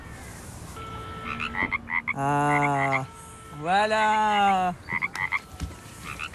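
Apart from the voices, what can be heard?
frog croaking mobile phone ringtone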